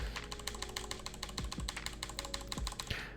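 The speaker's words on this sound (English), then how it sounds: "I'm going to go ahead and start pressing my keyboard again loudly, and you can start hearing it" Rapid, loud keystrokes on a computer keyboard clatter close to the microphone in a quick irregular burst, each press sharp and distinct, with no talking.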